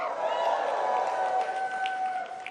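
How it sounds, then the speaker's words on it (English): Audience applause and cheering at a Tampa event as a speaker walks out onstage: steady, dense clapping from a crowd that holds throughout without easing. "I'm not used to hearing applause when I walk out onto the stage at the office these days"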